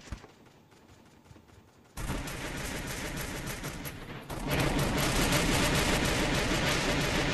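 Gunfire in the Free Fire battle royale game, with rapid automatic bursts that start quieter and get much louder and denser after a couple of seconds, continuous and close, with no talking.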